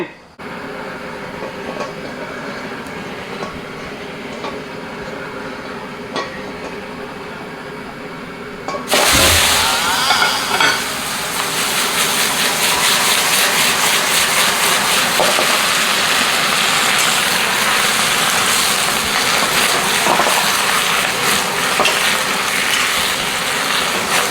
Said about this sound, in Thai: ก็จะผัดด้วยน้ำมันหมูนะครับ